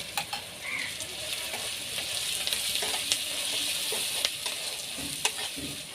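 Chopped onion with a pinch of salt fries in a pan for ghugni, making a steady close sizzle broken by occasional scraping stirs and light utensil taps.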